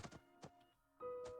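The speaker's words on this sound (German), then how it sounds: "Hast du gerade Holz gefällt?" Wood is chopped from a tree in Last Whisper, a zombie survival game, with a few quiet, dull thunking impacts in quick succession, close and soft against a faint tonal background.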